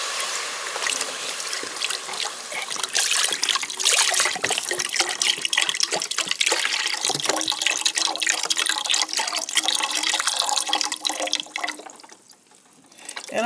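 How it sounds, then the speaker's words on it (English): Vegetable broth from a carton pours steadily into a soup pot, a continuous liquid splashing and gurgling that runs loud for most of the stretch before tapering off near the end, with no talking. "And then the broth. Okay, you all, this is just vegetable broth."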